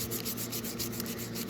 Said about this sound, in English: I want to sand in all different directions.